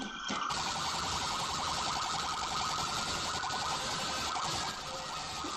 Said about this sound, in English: Oh, it's a chicken alarm.